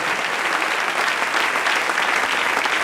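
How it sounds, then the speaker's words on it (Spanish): A church congregation applauding steadily, dense clapping at an even loudness throughout, with no voices on top. "Dale ese aplauso al Rey en esta preciosa y maravillosa noche"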